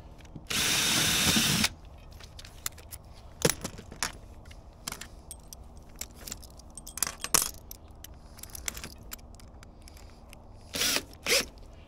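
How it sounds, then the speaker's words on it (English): A drill runs one loud, steady burst of about a second while boring a screw hole in wood for a sugarcane press stand. Scattered clicks and handling knocks of the tool and parts follow. "So now I'm going to drill the hole for the screw"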